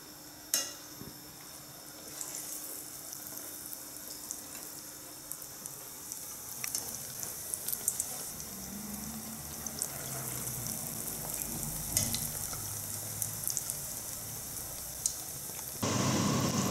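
Floured, egg-dipped eggplant slices frying in oil, a soft continuous sizzle with scattered crackles and occasional clicks, fairly close and quiet, with no voices.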